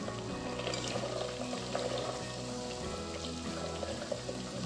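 Homemade ghee fries steadily in a pan with cloves and a pinch of salt, giving a dense, even sizzle and crackle that stays constant throughout, soft and close.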